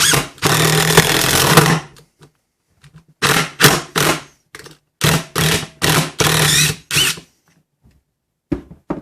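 A Milwaukee impact driver whirs in loud bursts while driving a screw, one long run followed by several short rapid pulses separated by silence.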